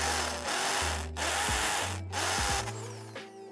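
A power drill bores into a brake caliper bracket for a Brembo brake install on an FRS/BRZ, with several short whirring bursts of grinding through metal separated by brief pauses.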